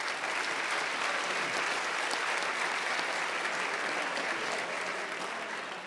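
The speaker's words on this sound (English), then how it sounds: "You should give yourselves just a huge round of applause right now." A large audience at the Adrian College athletics awards applauds student athletes, a dense, steady wash of clapping that holds evenly for several seconds and tapers slightly at the end.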